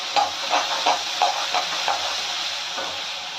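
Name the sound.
ginger garlic paste sautéing in pan for egg gravy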